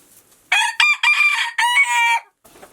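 A pet chicken crows loudly and close, one rough cock-a-doodle-doo broken into several strained syllables over about two seconds, heard alone without talk.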